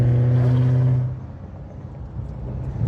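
A 2017 Ford Mustang with a stainless exhaust, BBK headers and a custom X pipe rumbles loudly close by, its deep steady engine tone easing off after a second into a lower idle burble.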